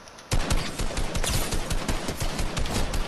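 Rapid bursts of gunfire crackle continuously after a brief quiet start, loud and dense like automatic weapons in a firefight, in a video game.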